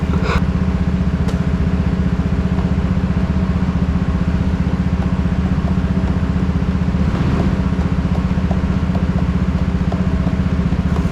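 A loud race car engine drones steadily throughout, its low rumble constant with faint revving surges and no voices.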